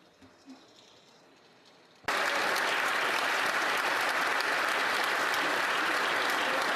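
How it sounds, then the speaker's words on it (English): Applause in the Canadian House of Commons chamber: after a near-silent start, a dense, loud burst of clapping erupts suddenly and holds steady to the end. "Please clap and support and show love for Olivier."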